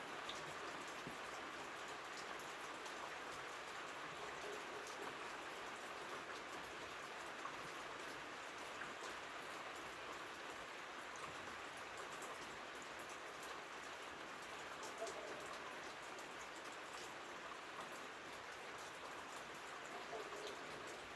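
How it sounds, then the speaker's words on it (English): Steady rain pours down outdoors in a dense, even hiss that holds for the whole stretch, fairly faint and unbroken, with no clear talk over it. "Oh, it's raining too."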